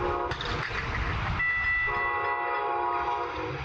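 A Brightline passenger train in Florida approaches along the tracks, its horn blaring steadily over a heavy rolling rumble of railcars close by.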